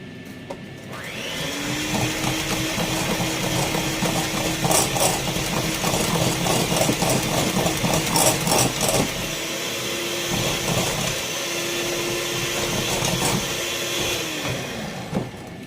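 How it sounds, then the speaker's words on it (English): A blender motor whirs steadily, loud and close, blending banana bread batter with a rattling, churning texture and a rising pitch as it spins up, then winds down near the end. "in the blender it kind of just goes"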